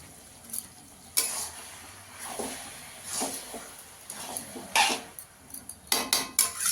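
Ghee sprinkled over a prawn and cabbage curry sizzles in the pan, with a steady hiss broken by several sharp bursts and scraping, clinking utensil sounds close by.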